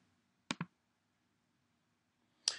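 A computer mouse clicks on a web page: a quick double click, then a single click about two seconds later, close and crisp in a quiet room.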